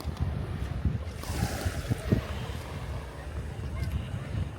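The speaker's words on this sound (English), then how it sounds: "We're here on the beach today." Waves wash onto a beach at Panglao, Bohol, heard as a low rolling surf rumble mixed with gusty wind noise on the microphone and a few faint voices in the background.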